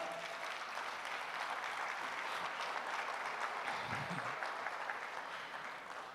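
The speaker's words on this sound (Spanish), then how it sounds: "dale un fuerte aplauso al Señor." A church congregation stands and claps loudly for the Lord at a family worship gathering, a sustained, even round of applause with a brief low rumble of movement near the end.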